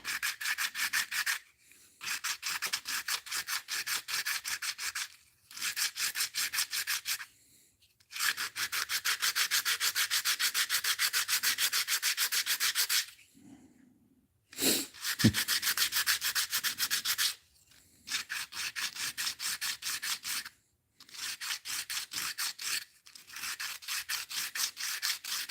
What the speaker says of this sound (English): This is 80 grit. And the idea is to get all those scratches sanded out.